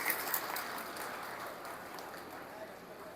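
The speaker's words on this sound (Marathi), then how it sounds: "टाळ्या वाजवल्या तरी चालतात बरं." Audience clapping at a Buddhist Mahasabha ceremony in Badnera, Amravati, a dense, fairly faint wash of applause that slowly fades across a few seconds.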